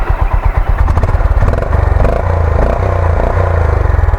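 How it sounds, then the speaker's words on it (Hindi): Honda CB350 motorcycle (2024) idling close by, a loud, steady thumping single-cylinder beat with even pulses throughout. "आइडल पे ऐसा साउंड करता है।"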